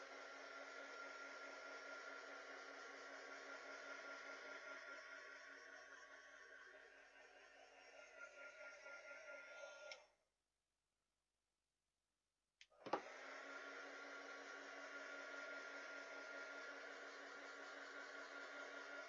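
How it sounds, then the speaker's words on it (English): Hot air gun drying watercolour paint on a Christmas painting: a steady close whooshing blower roar that cuts off, leaves a few seconds of silence, then restarts with a click and runs on at full strength. "And this just is a hot air gun."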